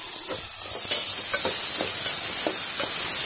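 Brinjal stirred and sautéed in a little oil in a pan for South Indian drumstick brinjal sambar, with a constant bright sizzle and soft scraping stir strokes throughout.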